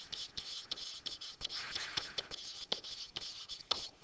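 Marker or chalk scratching across a classroom board, a continuous series of short strokes and taps, fairly quiet and close.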